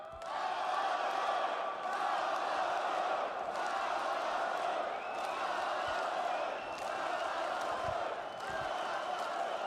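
Large esports arena crowd at the PGL Astana 2025 grand final cheering and roaring continuously, a dense loud wall of voices with whoops, while a commentator talks over it.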